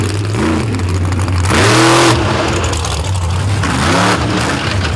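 A racing truck's engine revs hard on a dirt track at a 2023 off-road event, loud rising and falling surges over a constant roar, with crowd and track noise behind it.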